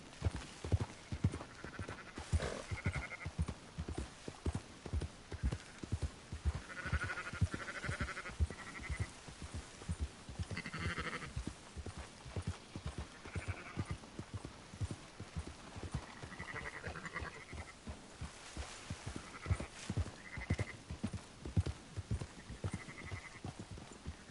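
Horse hooves clop in a steady rhythm while sheep bleat now and then during sheep herding in the video game Red Dead Redemption 2, with the bleats scattered through the whole run.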